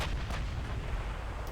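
Naval guns fire high-explosive shells in the warship game Ultimate Admiral Dreadnoughts: a dense, rumbling barrage of heavy booms fills the whole stretch, loud and continuous with no talking.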